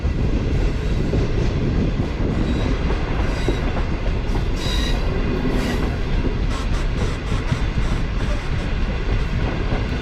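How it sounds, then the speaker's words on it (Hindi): The Green Line Express train, travelling from Islamabad, climbs a gradient with a loud, steady rumble of wheels and carriages, faint rhythmic clatter and occasional squeals, heard from on board. "पीछे अगर आप देखें तो कितनी नीचे से ऊपर आई है ट्रेन।"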